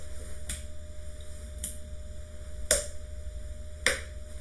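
Finger snaps in a body percussion class exercise: four crisp, isolated snaps spaced about a second apart, close and clear against a quiet, faintly humming room.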